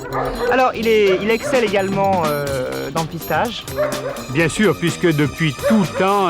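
A German shepherd yips, whimpers and barks in short excited bursts close by, mixed under someone talking steadily throughout.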